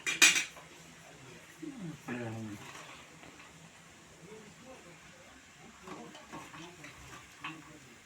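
A plate clatters and scrapes against other dishes in a home kitchen, with a sharp clink at the start and softer knocks afterward, under quiet talk and a faint background hum.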